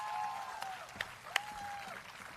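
Crowd applause at a live concert, a soft wash of clapping with a couple of sharp individual claps and a faint sustained tone or whistle running underneath.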